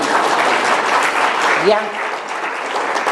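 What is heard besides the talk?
audience applause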